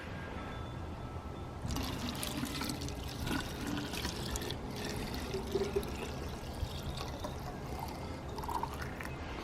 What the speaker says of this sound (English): And now just pour some water in.